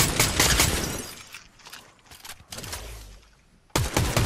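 Bursts of gunfire from a Fortnite match: heavy, loud volleys of shots at the start and again at the end, with sparser cracks in between and a brief low rumble.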